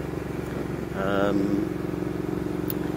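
A Triumph Thruxton R motorcycle ridden into a small Hertfordshire village, its engine a steady close throb that rises briefly as the throttle opens, with wind noise over it and a rider's voice talking.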